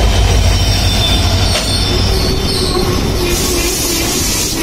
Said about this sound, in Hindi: शताब्दी एक्सप्रेस ट्रेन हमें मिल गई है यहाँ पर।